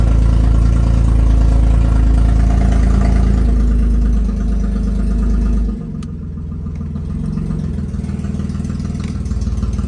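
A BMW E36 car engine runs loud and close, a steady heavy drone with a rumbling low end that eases slightly partway through and keeps going without pause.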